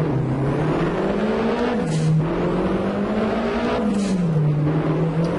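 A Flintstones car in the Assetto Corsa racing game revs hard during a burnout, making a loud continuous engine roar whose pitch rises and dips, with tire noise and no talk.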